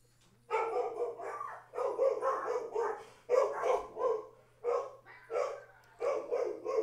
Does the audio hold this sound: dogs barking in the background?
yes